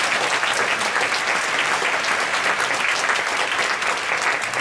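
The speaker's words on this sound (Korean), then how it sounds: "아이들 위해서도 박수 한번 치겠습니다" A church congregation at a Friday all-night worship service claps together in loud, sustained applause that fills the room evenly from start to finish.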